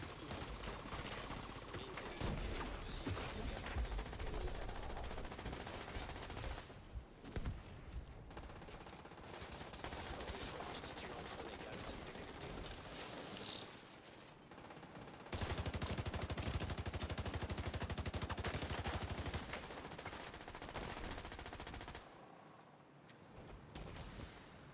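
Dense gunfire in The Division 2 shooter game: sustained automatic bursts and rapid shots, loud and continuous across most of the stretch, with brief lulls between volleys.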